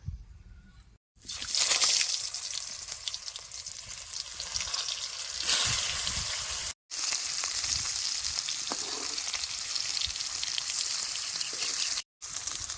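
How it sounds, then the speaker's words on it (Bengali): Boiled potatoes frying in oil left over from frying fish in a village kitchen: a loud, steady hissing sizzle that swells after a quiet start and runs on with brief breaks. "মাছ ভাজা তেলের মধ্যে সিদ্ধ করে রাখা আলুগুলো এখন আমি বাজে নেবো"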